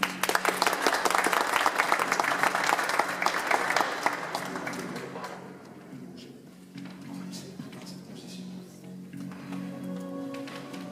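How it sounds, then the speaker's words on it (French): A hypnotist show audience applauds in a loud, dense burst that fades after about five seconds, leaving a quieter room with a low hum and scattered small sounds. "Levez les mains vers l'autre et on l'applaudit maintenant"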